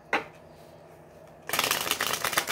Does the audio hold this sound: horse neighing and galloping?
no